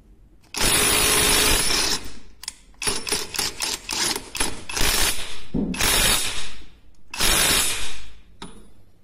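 A Parkside Performance PPDSSA 12V cordless impact wrench runs in reverse at its 200 Nm setting. It makes a long loud burst, a quick series of short hammering pulses, then several more loud bursts and a final brief blip.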